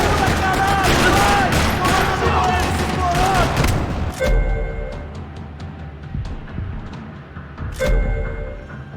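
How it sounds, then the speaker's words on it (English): Dense gunfire from a parking lot shootout in the video game Max Payne 3: rapid overlapping shots and bursts that are loud and sustained, then a tail of echoing reports with a second burst near the end, and a voice speaking over it. "Another parking lot rattling with gunfire."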